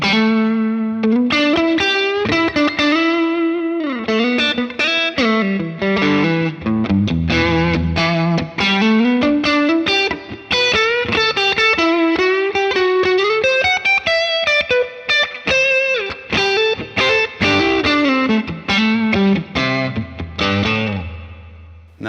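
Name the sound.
electric guitar with medium room reverb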